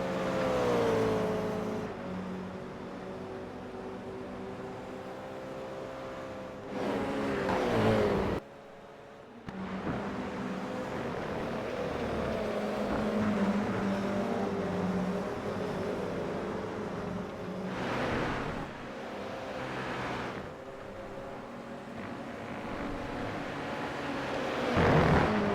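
Toyota GR86 cup race cars circle a road course, a steady loud engine drone with shifting pitch as cars run close together and overtake, broken by a brief dip, carrying on without talk.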